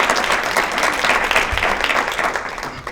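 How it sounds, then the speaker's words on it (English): An audience at a school story slam claps warmly for a student speaker, steady, dense applause throughout with no break. "let's give a warm round of applause"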